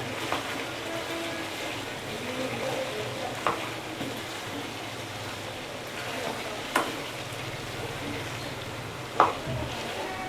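Fried chicken is stirred in a pan with green chilies and tomatoes, giving a constant close sizzle with a few sharp scrapes and clinks of the spoon, and no speech.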